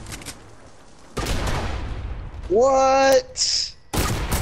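Gunfire in Fortnite comes as loud, close bursts with sharp onsets, broken by a bright electronic in-game tone. A short spoken exclamation sits between the shots.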